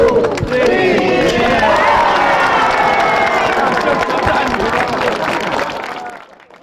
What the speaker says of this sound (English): Tzu Chi volunteers celebrate their dreams come true with applause